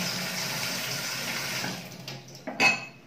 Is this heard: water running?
yes